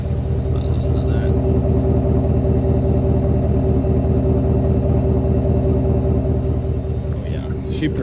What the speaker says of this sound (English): this is what a stock truck looks like, other than the exhaust. But listen to that.